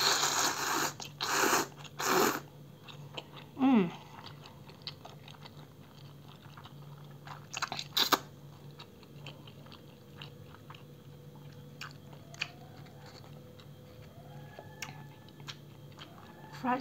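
Crunchy bites and chewing of crispy fried shrimp skewers, a few loud crackling bursts early on followed by quieter, sporadic chewing, close up with no talking.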